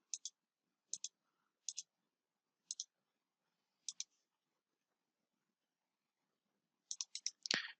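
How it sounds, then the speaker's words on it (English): Computer mouse clicks in quick double pairs, repeated about six times at a steady spacing, crisp and close in an otherwise quiet room, with a brief burst of clicks and a thump at the end. "Double click."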